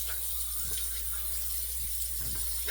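A Semogue 1305 boar shaving brush is rinsed under a running tap, giving a steady, close rush of water that continues throughout.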